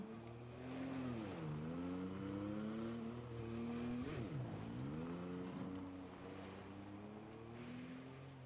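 A car driving in the video game Borderlands 3, a steady engine drone with the pitch dipping and climbing as it speeds up and slows, loud and continuous throughout.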